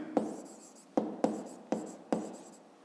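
A pen scratches across paper in five quick, evenly spaced strokes, each a sharp onset that fades into a short rasp, close and alone.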